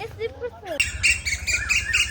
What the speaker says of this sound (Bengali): কোকিল দুইটা খুব মিষ্টি করে গান গাইতেছিল